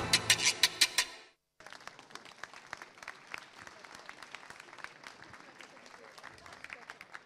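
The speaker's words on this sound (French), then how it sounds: "On peut, je crois, effectivement les applaudir." After a short burst of voice, a crowd breaks into steady applause, many hands clapping evenly at moderate volume for several seconds.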